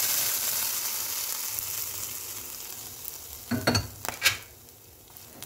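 Hot chhaunk tempering is poured over steaming khichdi, giving a steady hissing sizzle that flares into a few sharp, louder crackling bursts near the end.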